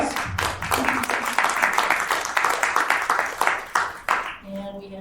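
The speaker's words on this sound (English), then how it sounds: "Round of applause." Audience applause at a regular board meeting, a room full of people clapping steadily for about four seconds before it tapers off, with a voice starting to speak as it fades.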